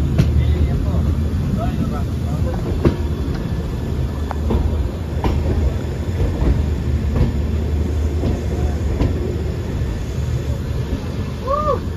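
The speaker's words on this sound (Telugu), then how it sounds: "ట్రైన్ అనేది ఆ ప్లేస్లో కొద్దిగా ఫాస్ట్గా మూవ్ అవుతుంది." A train runs fast near Dudhsagar waterfall in Goa with a loud, continuous rolling rumble and repeated clicks over the rail joints, and a faint wheel squeal near the end.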